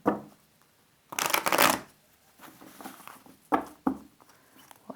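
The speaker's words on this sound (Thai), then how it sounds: "เดี๋ยวขอสับไพ่แป๊บหนึ่ง" Tarot cards being shuffled by hand: a close riffling burst followed by softer sliding and several sharp taps as the deck is squared, with no talking.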